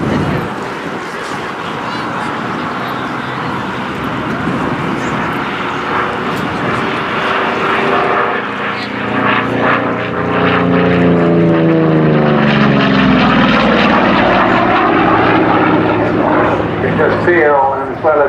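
A Goodyear-built WWII Corsair propeller fighter flies at an air show, its loud radial engine roar building and sweeping past with a rising, pulsing drone, while a commentator talks over it.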